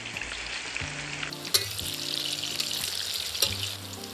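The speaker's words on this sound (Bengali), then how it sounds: "তেল গরম হয়ে গেলে সেদ্ধ এঁচোড়গুলো একে একে তেলে দিয়ে দেবে" Boiled young jackfruit pieces fry in hot oil with a strong, steady sizzle and crackle, close and alone, broken by a couple of sharp clinks from a utensil partway through.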